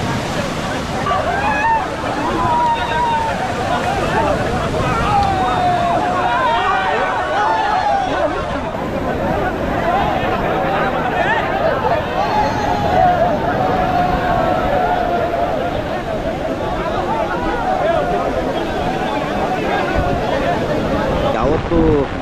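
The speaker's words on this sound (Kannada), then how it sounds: "ಒಂದು ಇಪ್ಪತ್ತು ನಿಮಿಷದಿಂದ ಕಂಟಿನ್ಯೂಸ್ ಆಗಿ ಗಾಳಿ ಮಳೆ ಬರ್ತಾ ಇದೆ" Steady roar of wind and heavy rain in Bhatkal during the Maari Jaatre festival, a dense broadband wash that continues without break, with a voice speaking over it.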